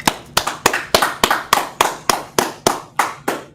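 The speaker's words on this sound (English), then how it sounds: "Clap it up, clap it up." Hands clapping in a slow, steady rhythm of about a dozen sharp, close claps, evenly spaced with brief decays between them.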